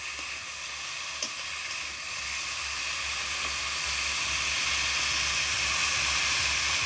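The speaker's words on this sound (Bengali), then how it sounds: "সমস্ত সবজিগুলো তেলের মধ্যে খুব ভালোভাবে ভেজে নেব।" Okra, hog plum and pumpkin frying in oil, a dense continuous sizzle and hiss that grows slightly louder, close and steady with one faint clink early on.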